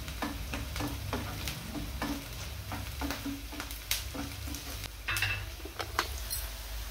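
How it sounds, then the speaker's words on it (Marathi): Onion, garlic and green chili fry in a pan for a green vegetable dish, an even sizzle under repeated spatula stirs and clinks against the pan. "कांदा या ठिकाणी चांगला भाजला गेलाय."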